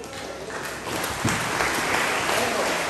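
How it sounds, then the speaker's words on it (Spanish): Applause from wedding guests at a Kichwa cultural wedding, a dense steady clapping that swells after the first second and keeps going with some talk mixed in. "Fuerte, fuerte los aplausos"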